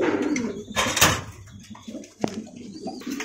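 Caged Bombay pigeons for sale coo in short, low throaty bursts, close by, with a knock or two of cage doors in between.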